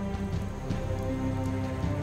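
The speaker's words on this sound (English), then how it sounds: "Finally, rain." Rain falls steadily across the savannah, a dense, even patter of drops on the ground that holds at a constant level throughout, with no voices.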